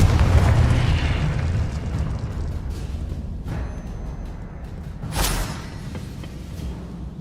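A Confringo fire spell blast in the video game Hogwarts Legacy: a loud, sustained booming roar with rumbling explosions and a sharp burst partway through, no talk.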